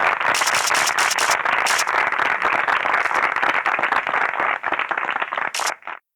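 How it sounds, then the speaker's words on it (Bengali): A studio audience breaks into sustained, dense applause welcoming contestants onto a television show stage, the clapping loud and steady before trailing off near the end. "প্লিজ প্লিজ প্লিজ হাততালি দিয়ে স্বাগত জানান"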